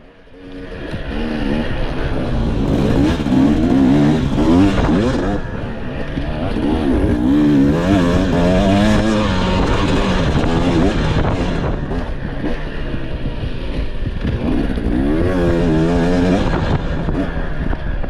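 Off-road motorcycles race at the AMSA Offroad round at Wildhorse (Yaha Tinda), with a close, loud engine whining and revving through gear changes, a continuous rising and falling drone under faint talk.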